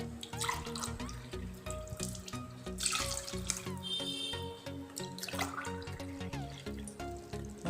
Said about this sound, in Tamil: அதனால் 3 டம்ளர் தண்ணி நான் ஊற்றிக்கிறேன்.